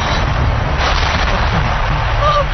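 Gunfire in a dramatic battle scene, a dense, continuous roar of shots and blasts filling the whole stretch, loud and close with no clear gaps between reports.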